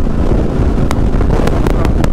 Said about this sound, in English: It's just got windy all of a sudden really windy